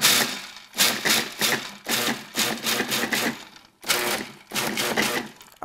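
Food processor pulsing lemon-based ingredients to a coarse texture, loud close whirring bursts in repeated short pulses with brief pauses between them.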